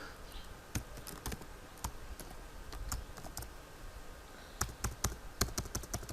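Typing on a computer keyboard while writing a document in MS Word 2016, a steady run of quiet, close key taps with occasional sharper clicks over low background hiss, with no talking.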